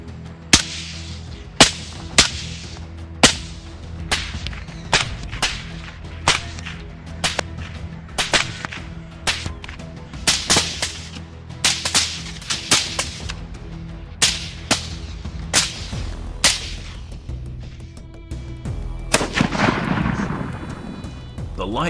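Gunshots fired at wild boars at night under a light trap: roughly fifteen sharp, loud cracks at uneven intervals, each ringing briefly, ending in a rumbling burst.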